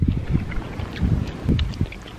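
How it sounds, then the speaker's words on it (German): Wind gusts outdoors buffet the microphone in uneven rumbling bursts, moderately loud and close, with no voices heard. "Aber es windet halt ein bisschen"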